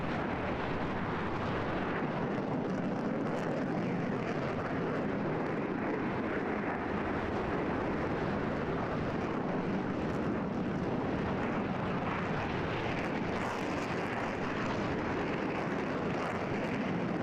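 A J-11 Flanker jet in a flight game takes off with flaps up and full trim back, a steady loud broadband engine roar sustained throughout with no break.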